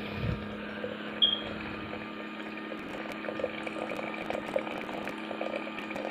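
Tea machine running and dispensing hot water, a faint steady hum and gurgling flow with a brief higher tone near the start, heard alone without talk.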